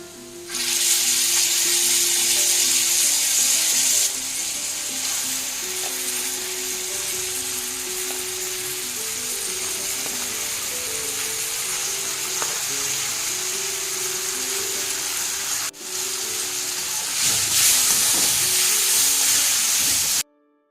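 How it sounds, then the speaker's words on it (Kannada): Tamarind juice added to a hot pan for bitter gourd gojju sets off a loud, steady hiss and sizzle that runs throughout, briefly dipping and then flaring again near the end, with no talking. "ಈಗ ಇದಕ್ಕೆ ಐದರಿಂದ ಆರು ಟೇಬಲ್ ಸ್ಪೂನಷ್ಟು ಹುಣಸೆ ರಸ ಹಾಕ್ತಾ ಇದ್ದೀನಿ"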